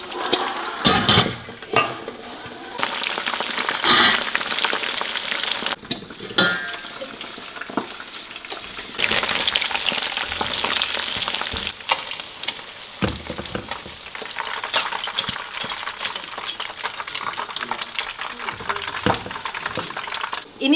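Chicken frying in deep hot oil for ayam kremes hisses and crackles steadily, loud and close, with brief dips in intensity and no talking.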